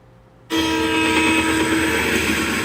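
A train roars in abruptly and loudly after a moment of quiet, a sustained heavy rumble with a steady tonal hum close by.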